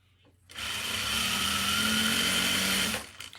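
A domestic sewing machine runs in one steady burst of about two and a half seconds, stitching across a flattened elastic anklet seam, with no voices.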